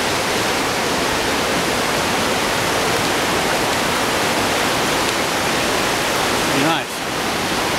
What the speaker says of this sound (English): The way the falls are coming over there.